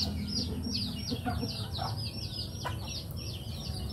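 Hens clucking in a chicken barn, several birds making soft overlapping clucks and short calls over a steady background hum.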